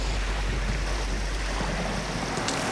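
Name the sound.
wind and choppy water at the beach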